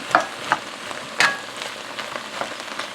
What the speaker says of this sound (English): I'm mixing the leeks throughout now